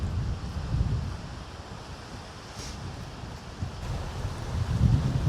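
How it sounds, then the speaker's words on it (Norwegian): Wind blows steadily across a riverside in the Jotunheimen mountains, a low rumbling buffet against the microphone that swells a little toward the end, with no voices. "Kunne droppet den vinden litt, men sånn er det."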